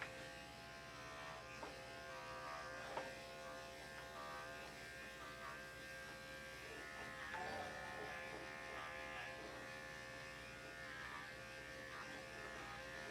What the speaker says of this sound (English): look at this clipper I've been using for years now.